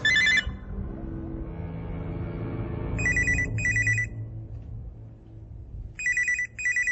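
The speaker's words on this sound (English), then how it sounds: "Shouldn't you get that? That phone doesn't work." An old-style telephone bell rings in a quiet room, sounding as a short burst, then a doubled ring, and another doubled ring, each pair of sharp metallic trills separated by pauses over a low background hum.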